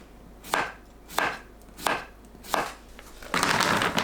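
Cucumber with its ends trimmed is sliced by knife into 0.5 cm thick rounds: four crisp, evenly spaced chops on a board, then a quicker, denser run of cuts at the end, close and clear with no talking.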